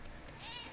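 A pet cat meows once for attention, a short, fairly faint, rising cry heard close by in an otherwise quiet room.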